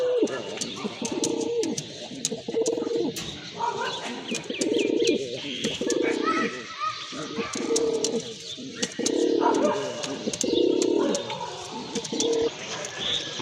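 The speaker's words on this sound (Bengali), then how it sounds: "এই যে দেখেন কবুতর জোড়াটা খুবই সুন্দর" Pair of pigeons kept for sale cooing close by in repeated throaty rolling coos, with faint chirps and light background noise.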